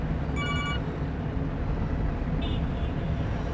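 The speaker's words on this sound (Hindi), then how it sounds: "किसका फोन आ गया?" A telephone trills in two short bursts, faint and bright, over a loud low rumble of background noise in an Urdu drama scene.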